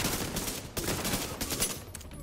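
Shotguns in The Division 2 fire in a quick run of loud, broadband blasts, several shots overlapping with brief gaps between them.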